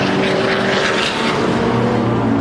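Racing cars in a CTC Thunder and BOSS qualifying session at Brands Hatch roar past, a loud continuous engine drone with a sweeping pass, filling the scene without talk.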